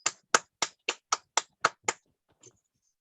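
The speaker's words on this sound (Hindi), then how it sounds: "एक जोरदार तालियां" Eight crisp, evenly spaced hand claps ring out close and clear during a motivational business talk, followed by a pause and one faint final tap; no talking.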